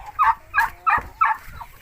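A turkey gobbles while fighting Kadaknath chickens on a Nepali farm, giving four loud, close, evenly spaced gobbling bursts.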